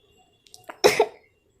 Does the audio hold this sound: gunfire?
no